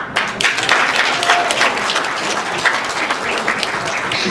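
An audience at an African diaspora awards ceremony in Montréal claps in a loud, steady burst of applause, with a few brief cheers mixed in.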